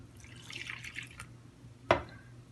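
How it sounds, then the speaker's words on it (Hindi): Water is poured into a besan (gram flour) batter mixed with salt and baking soda: a soft, wet trickle, then one sharp, close splash, quiet and with no talking. "अब पानी डालेंगे,"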